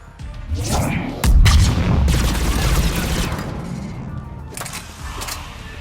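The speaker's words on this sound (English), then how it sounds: "Shepard Commander, the Creator fleet is firing upon this vessel." Starship fleet weapons firing in a Mass Effect space battle: heavy booming blasts and rumbling volleys, loud and near, with a sharp impact about a second in, then a sustained roar that slowly fades.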